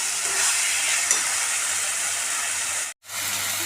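Chicken pieces frying in hot oil for Bengali chicken chorchori, a steady loud sizzle and hiss throughout, briefly cut off near the end before resuming.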